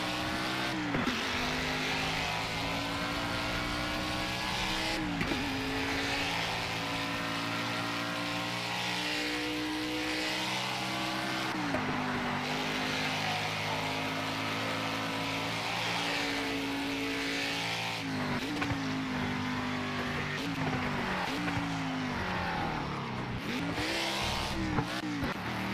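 Ford Mustang Boss 302R lapping Imola in Project CARS in changing weather, a loud V8 engine revving up through the gears and dropping on downshifts in repeated cycles, steady and close, without talk.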